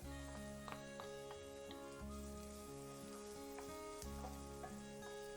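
Garlic goes into a pan of cooked onions for a broccoli and white wine pasta sauce, and a steady, dense sizzle of frying fills the clip with occasional stirring taps and a constant tonal hum beneath.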